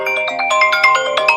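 A phone rings with an incoming call, a bright, loud, rapid repeating ringtone melody heard close up and alone for about a second and a half.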